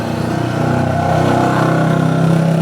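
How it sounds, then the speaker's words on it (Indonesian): Motorcycle roaring past near a takoyaki stand, a loud steady engine drone swelling toward the end with no one talking. "Ada motor lewat, sangat kencang suaranya."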